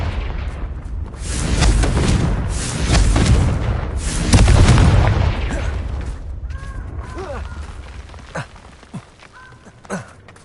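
Booming explosions from the Confringo fire-blast spell in a Harry Potter-style video game, a run of heavy rumbling blasts over several seconds, then quieter ticks, small thuds and footsteps as the noise dies away.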